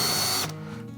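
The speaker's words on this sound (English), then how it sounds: "and drill the second hole" A power drill bores a hole through a board set in an Auto-Line drill guide, whining loudly for under half a second before cutting off and leaving a faint hum.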